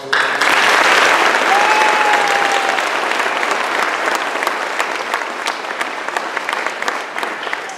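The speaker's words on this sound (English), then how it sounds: "Just give him a round of applause." An audience claps at a Conner St. Elementary fifth grade graduation ceremony, producing loud, sustained applause that starts abruptly and slowly thins out, with a brief whistle near the start.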